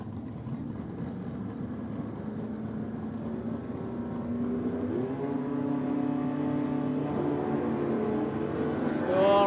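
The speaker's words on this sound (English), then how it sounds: "Gary Durrington in the front-end dragster in the Aeroflow lane up against Lewis Eunice in the Holden Tirana in the Rocket lane" Front-end dragster and Holden Torana engines at a drag racing day, a steady loud roar building in pitch and intensity over the run, with a sharp rise at the very end.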